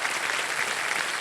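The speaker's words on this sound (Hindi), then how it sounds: "ताली बजती रहे इनके लिए।" Studio audience applause for a contestant on the Hindi quiz show KBC, a dense, even, sustained roar of clapping throughout.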